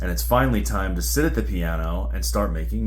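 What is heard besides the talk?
No everyday noises stand out.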